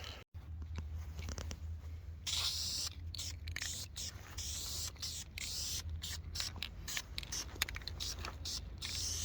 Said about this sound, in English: So we're gonna get some paint sprayed and get a little color on it.